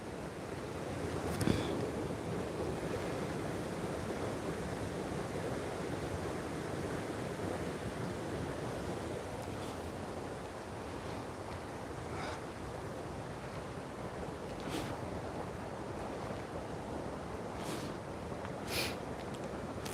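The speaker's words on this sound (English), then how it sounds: "How about that waterfall right there, folks?" A waterfall at Mount Usher Gardens in Wicklow, Ireland, gives a steady broadband rush of falling water, constant and enveloping, with a few faint knocks and no talking.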